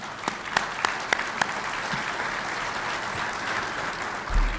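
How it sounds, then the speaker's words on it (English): A crowd at a city State of the City address gives a round of applause for ward councilmen, a full, sustained wash of clapping with several sharp nearby claps early on, fading toward the end. "Give them a round of applause"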